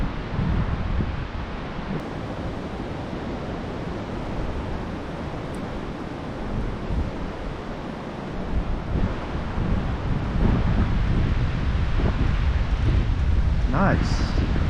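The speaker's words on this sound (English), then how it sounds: "that wind." Strong wind blows steadily while fishing outdoors, a loud continuous roar buffeting the microphone and rising in force toward the end.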